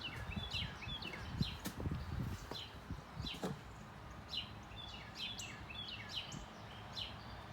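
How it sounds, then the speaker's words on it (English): Birds chirp and tweet outside a garage on a warm morning, with scattered high calls that are faint and somewhat distant, over low background rumble and occasional knocks. "Hear all the birds,"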